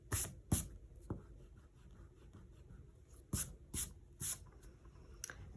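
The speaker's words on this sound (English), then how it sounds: "And now I can erase the marks that I made" A pencil eraser rubs out marks on drawing paper in several short, crisp scrubbing strokes, two quick pairs and a run of three, close and quiet between the strokes.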